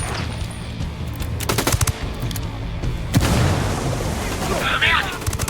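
Video game gunfire crackles in rapid bursts of automatic shots and heavier booms, loud and close over a battle din, while voices shout in the mix.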